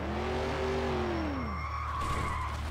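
Car tires skid and squeal under hard braking in My Summer Car, a loud falling screech sustained for about a second and a half over steady engine drone, then fading into rolling noise.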